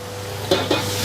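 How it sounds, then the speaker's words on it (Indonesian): Quick stir-fry in a busy restaurant kitchen pan, fish sauce and sesame oil just added; a steady background hiss broken by two short clanking scrapes close by, with no talking. "Udah beres, tumis sebentar."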